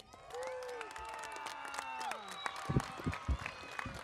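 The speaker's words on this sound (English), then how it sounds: "you're going to give her a big round of applause" Audience applause for the mayor at a school earthquake drill event, a modest burst of clapping and cheering that builds toward the end, with high children's voices and whoops mixed in.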